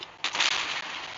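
Tank cannon fire in the Tanks Blitz video game, a single sharp blast followed by a hissing, fading rumble, loud and close.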